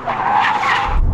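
Car tires skid and squeal loudly as the wheels lock up during an emergency brake test, a single sustained screech lasting about a second before cutting off.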